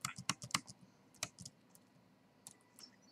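Quiet bursts of clicking keys on a computer keyboard, a quick flurry of typing then scattered keystrokes, faint and close.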